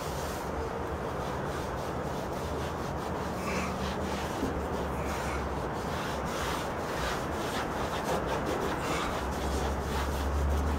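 A drywall patch being sanded by hand, with quiet, repeated rasping strokes that rub on steadily against a low background hum.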